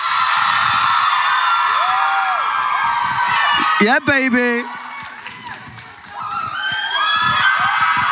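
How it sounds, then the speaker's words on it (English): An audience cheers, whoops and claps for Jojo Siwa in a studio, loud excited shouting and applause that dips briefly mid-clip before swelling again, with voices calling out over it. "A round of applause for Jojo Siwa."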